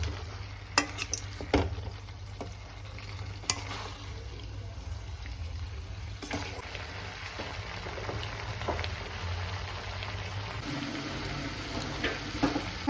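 Chicken frying in a pan for an egg chicken fry, a steady close sizzle with intermittent clinks and scrapes of a spatula stirring the pieces throughout.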